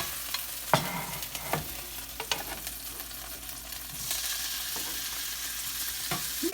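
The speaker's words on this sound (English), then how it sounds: "We still have oil on the pan, and we will continue doing the bacon until it's cooked the way we like it." Bacon fries in leftover oil in a pan, a soft steady sizzle broken by scrapes and clicks from stirring, fairly quiet and close with no voices.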